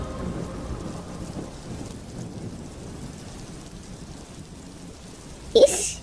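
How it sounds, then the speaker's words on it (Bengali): Heavy rain falls in a constant roar in an animated cartoon, then a sharp crack of thunder bursts loudly near the end. "কাপড় তুলতে তুলতে অমনি হুড়মুড়িয়ে বৃষ্টি চলে এলো"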